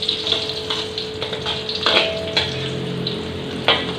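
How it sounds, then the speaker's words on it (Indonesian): Chilies, spring onion and ground spice paste frying in a wok for sweet soy tofu, a continuous crackling sizzle with occasional spatula clinks and bursts of spitting. "kita masukin cabai sama daun bawangnya sama bumbu yang tadi kita giling"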